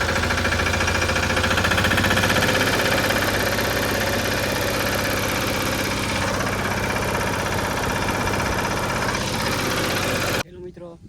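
Loud, steady rumbling of a tractor engine idling close by, chugging evenly for several seconds before cutting off abruptly near the end.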